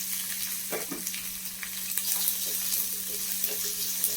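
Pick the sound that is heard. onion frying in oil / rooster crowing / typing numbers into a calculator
onion frying in oil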